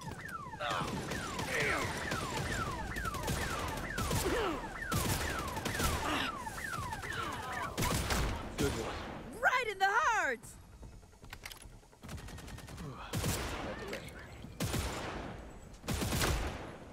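Rapid bursts of gunfire in the video game Redfall, repeated sharp volleys and rattling fusillades across the scene, with a brief whooshing effect in the middle.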